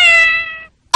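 A cartoon cat from Family Guy gives one loud, clear, drawn-out meow that fades out, followed by a short burst of noise.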